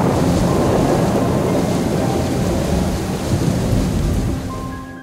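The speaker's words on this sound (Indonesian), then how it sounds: "Saat malam hari, hujan pun turun sangat deras." Heavy nighttime rain pours in a dense, loud, continuous wash, with deep rolling thunder rumbling beneath it throughout, easing slightly toward the end.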